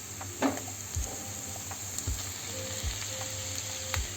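Onions and spinach sizzle and crackle steadily in butter in a hot pan, a soft continuous frying hiss with occasional light scrapes of stirring.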